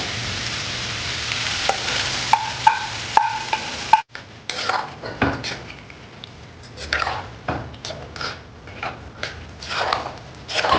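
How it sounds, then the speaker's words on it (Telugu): Hot tempering is poured into pongal: a loud sizzle with a few sharp clicks, then the sizzling cuts off into rhythmic stirring and scraping in a pan, up close. "ఇప్పుడు ఈ తాలింపు మనం ఇందులో వేసేస్తున్నాం"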